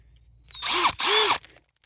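A 3.5-inch garden auger bores planting holes in soil, giving two short, loud whirring bursts with a rising and falling motor pitch, separated by a brief pause.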